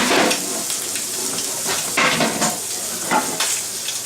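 A sandwich frying in butter in a pan, a steady close sizzle with occasional scraping as it is moved around, continuous and fairly loud.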